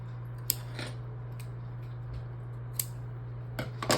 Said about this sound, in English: we're gonna cut our yarn